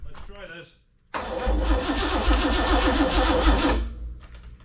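Chevy 396 big block in a 1972 Chevelle cranking briefly, then catching and bursting into a loud, rough, throbbing idle that holds steady before easing slightly, recorded up close.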